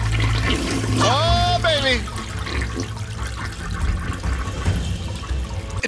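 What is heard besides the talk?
toilet flushing in The Baby in Yellow video game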